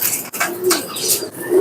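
Soft pigeon coos close by, a few throaty warbling notes over a busy background of other bird calls.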